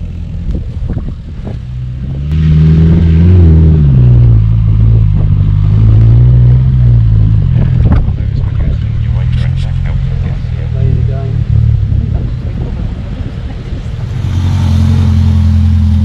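A 750 Motor Club trials car working down a steep hill course with tight turns, its engine droning and revving nearby with clattering over rough ground, while a person talks over much of it.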